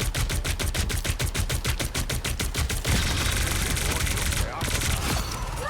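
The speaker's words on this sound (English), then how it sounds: "Oh, so it automatically turns into Gatling guns." Rapid, evenly spaced Gatling gun bursts from the demonic arms in the video game The Hood rattle loudly for about three seconds, then give way to a dense wash of game effects.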